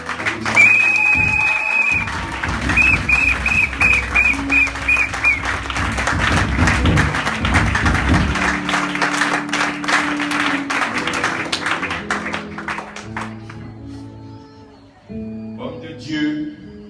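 A church congregation breaks into applause and cheering, loud, dense clapping mixed with raised voices and some music, carrying on for many seconds before thinning out near the end.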